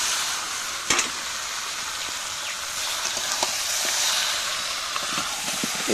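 Chicken meat sizzles and hisses steadily in a pan with cumin and coriander over a wood-fired clay stove, a dense continuous frying noise with occasional pops and crackles, close up and without talk.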